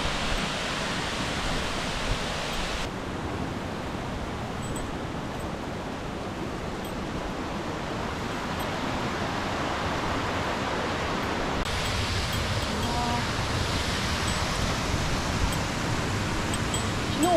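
A mountain waterfall runs with heavy flow after rain on a hiking trail: a dense, steady roar of rushing water that stays loud and unbroken throughout, with only slight shifts in intensity.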